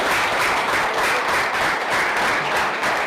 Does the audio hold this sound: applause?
yes